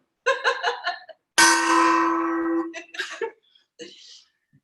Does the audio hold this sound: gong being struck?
yes